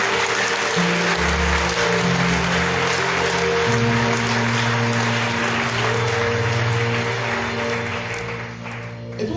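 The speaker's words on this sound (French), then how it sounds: "Est-ce qu'on peut fortement acclamer le Seigneur?" A church congregation at an evening praise and worship service claps and cheers continuously, a dense, loud wash of applause with sustained music or voices underneath throughout.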